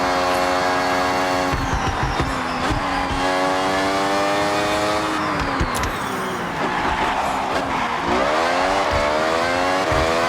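Racing car engine in Forza Horizon 6, loud and continuous, with the engine note rising and falling through gear shifts, braking and acceleration, alone.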